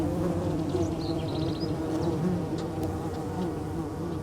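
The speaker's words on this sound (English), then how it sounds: "The Copolicana bees have hairy, colorful bodies and constantly buzz around their tiny colony." Hairy, colorful Copolicana bees buzz around their tiny underground colony, a dense, continuous close drone with wingbeats rising and falling as individuals pass.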